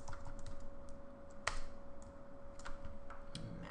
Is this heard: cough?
no